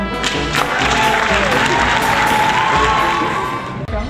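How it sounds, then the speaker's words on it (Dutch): Applause and cheering ring out for a child, a short burst of clapping and excited shouts that swells and stays fairly loud before cutting off. "Applaus voor jezelf!"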